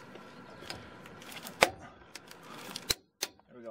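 A 3/8 impact wrench tightening a bolt, heard as a few sharp, close mechanical bursts and clacks scattered over a quiet background with faint rustling, and no talking.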